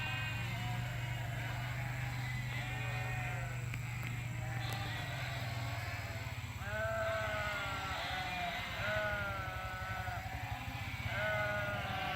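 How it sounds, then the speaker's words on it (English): Sheep bleat repeatedly, a flock calling over one another at moderate distance, with a steady low hum running underneath throughout. "See a bunch of sheep."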